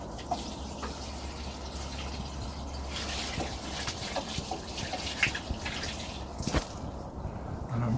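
Liquid tomato feed pours and splashes onto garden tomato plants, a steady close trickle with scattered drips and small splashes over faint background rumble, no speech.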